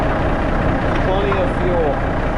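A Kenworth K100E Aerodyne cabover truck's engine idles in a steady low drone, with voices talking over it throughout.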